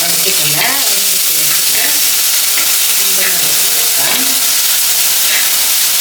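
Crushed ginger and spices splutter and sizzle in hot oil in a pan while a prawn curry is cooked, a steady close crackling hiss throughout with a voice faintly in the background.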